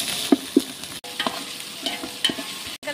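White onion paste frying in a pan, a steady close sizzle with a few sharp scrape-and-stir knocks near the start and later, no voices.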